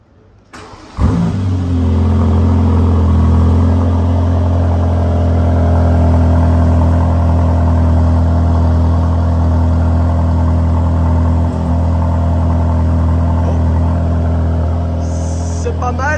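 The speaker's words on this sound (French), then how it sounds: "On va entendre ce que ça donne en cold start." Mercedes-AMG GT Black Series V8 cold start: a sharp crank and catch into a loud, steady high idle that holds close and constant throughout.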